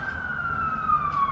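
A city emergency siren wails in a single long falling tone, moderately distant and steady, heard briefly through an indoor space.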